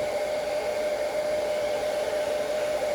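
A heat gun shrinks heat-shrink tubing over the blinker wires of a Yamaha Tenere T700 motorcycle, giving a steady, even blowing roar with a constant whine, close and alone.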